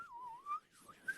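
Someone whistles a short bird-like call imitation, a faint, wavering pure tone that dips and rises, breaks briefly, then ends with a couple of quick chirping notes.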